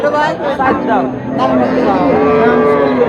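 A dairy cow with a calf moos loudly and close by in long drawn-out calls at the Chandaikona cattle market, with people chattering in the background.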